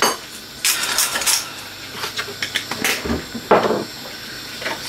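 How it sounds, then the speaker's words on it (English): A spoon stirs mince and gravy in a pan, giving scattered scraping and clinking knocks with louder bursts and short pauses, close and clear with no talk. "Give it a little stir."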